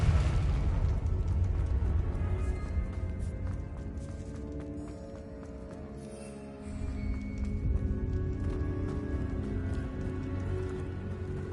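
Fire-blast spell detonations from Hogwarts Legacy, with dense booming bursts over a constant bed of game music and ambience. A brief dip sits in the middle before the loud, sustained mix returns.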